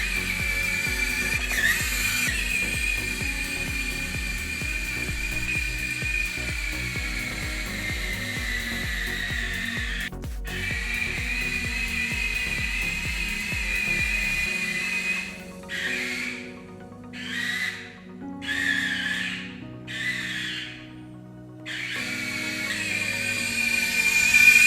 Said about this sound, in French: le roller est connecté et va pouvoir tracter directement la remorque